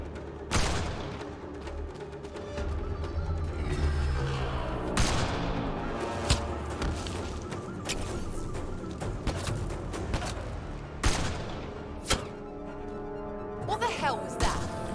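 Gunfire during a Mass Effect Andromeda firefight, with sharp single shots and short bursts ringing out against a sniper under a music bed, and voices shouting between the shots.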